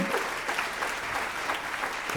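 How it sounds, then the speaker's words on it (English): A round of applause from an event audience for the sponsors at a mic battle, dense steady clapping that fills the whole moment at moderate volume. "Another round of applause for our sponsors here."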